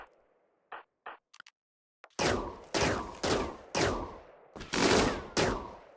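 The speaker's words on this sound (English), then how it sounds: "I'm gonna have you come over here and shoot these hives" Gunfire in RimWorld as colonists shoot insect hives: a few faint clicks, then a rapid series of about seven sharp, loud shots in quick succession, close and alone with no talk.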